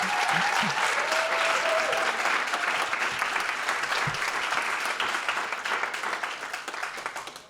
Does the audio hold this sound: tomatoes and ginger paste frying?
no